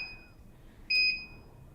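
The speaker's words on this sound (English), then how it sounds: "the treadmill does beep as it starts and as the speed and incline adjust" Horizon T101 treadmill giving a single clear electronic beep as it starts, a steady tone lasting about a quarter second over a quiet background hum.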